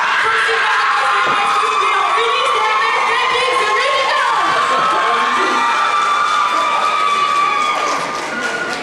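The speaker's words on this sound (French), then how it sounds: "s'il vous plaît, applaudissez bien fort" A crowd at a roleplay contest show cheers, shouts and claps in a loud, continuous wash, with excited voices and whoops mixed through the noise.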